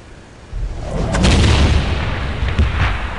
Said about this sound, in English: Now we've got a barrage going.